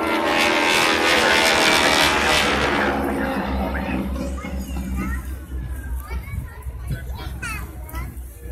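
Propeller airplanes flying in formation at an airshow pass overhead with a broad droning roar that swells and then fades, while children and other people chatter loudly nearby.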